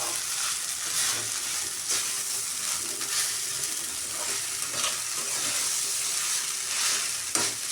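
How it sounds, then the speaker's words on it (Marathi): Poha sizzling and frying in a hot pan while being stirred for a few minutes as potato poha is made, a steady close crackling hiss with soft scraping stirs and no talk. "दोन ते 3 मिनिटं छान पोहे परतून घ्यायचे."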